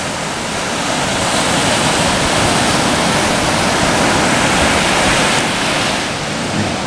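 Ocean waves wash steadily onto a sunny California beach, a loud, continuous roar of surf that fills the whole stretch with little variation and no voices.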